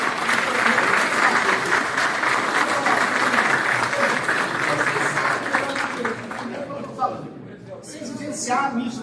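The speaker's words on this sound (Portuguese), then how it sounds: "Uma grande salva de palmas a quem estiver." An audience at a Rotary youth exchange club certification event breaks into loud, sustained applause that thins out toward the end, with voices and cheers mixed in.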